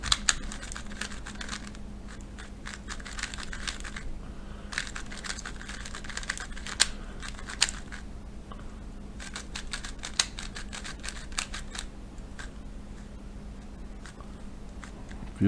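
An X-Man Design Tornado V4 Pioneer Edition speed cube, slightly gritty out of the box, being turned in quick bursts of soft plastic clicks and clacks, close and quiet, with brief pauses between flurries of turns.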